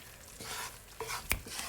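Gram flour halwa being stirred with ghee in a pan, a soft scraping and faint sizzle with a few brief clicks of the spoon against the pan, close and fairly quiet.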